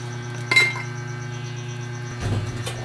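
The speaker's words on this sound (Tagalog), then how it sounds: "Haluin ko ng konti." A spoon stirs a pot of Filipino-style sour hot pot with tofu. It makes two clear metallic clinks and scrapes about a second and a half apart, close by over a constant background hum, with no voices.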